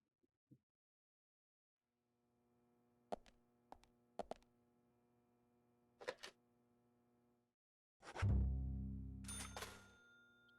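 Payphone in a video game, a sequence of sharp electronic tones and clicks with pauses between them, followed by a louder rumbling burst and a final ringing tone at the end.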